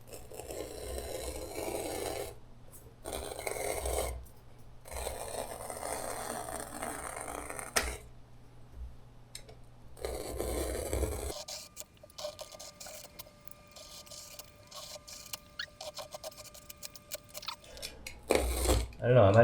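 Knife cutting through carpet on a camper roof, with intermittent bursts of rough scraping and sawing strokes separated by pauses, close and moderately loud, later settling into a steadier low scratching.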